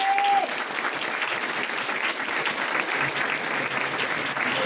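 An audience applauding at a school inauguration, full steady clapping from a sizable crowd throughout, with a brief tone at the start.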